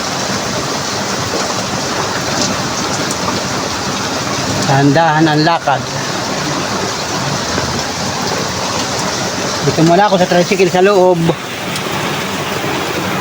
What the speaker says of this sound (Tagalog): Papatila muna tayo ng ulan.